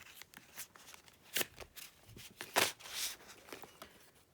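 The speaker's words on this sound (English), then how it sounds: "So I'm going to shuffle the cards, see if anything comes out." Tarot cards being shuffled by hand, a series of crisp riffling bursts and soft slaps of varying loudness, close and alone without talk.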